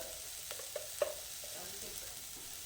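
Onion sautés in a pan for ragda patties, giving a quiet, steady low sizzle with a few small clicks of a spatula, fairly faint and without speech.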